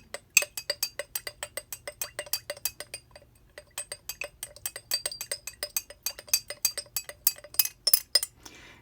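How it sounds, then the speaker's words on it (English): Rapid, steady clinking of a utensil stirring linseed oil and paint thinner inside a glass jar, bright repeated ticks close to the listener with no talking. "I'm going to stir it up."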